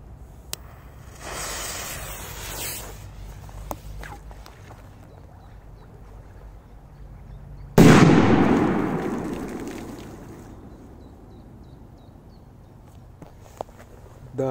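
A large dynamite-style firecracker detonates on a lake with one loud, close blast whose rumble fades slowly over a few seconds, preceded by quiet ambience, a few light clicks and a brief hiss.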